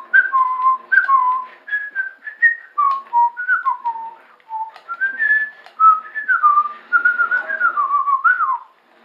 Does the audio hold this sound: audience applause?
no